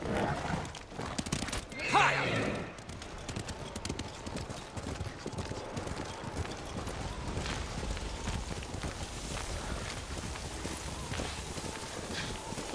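A horse in the Ghost of Tsushima video game whinnies sharply near the start, followed by steady galloping hoofbeats that run on under a dense wash of stormy wind and game ambience.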